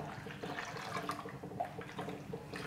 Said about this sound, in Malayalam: ബാക്കിയുള്ള വെള്ളം കൂടി ഞാനിപ്പോൾ ഒഴിച്ചു കൊടുത്തു